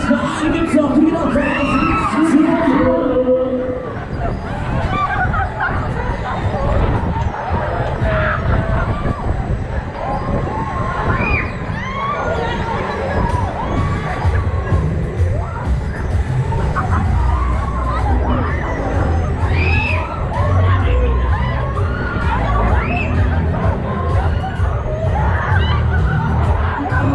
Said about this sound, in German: und wo ist der Applaus?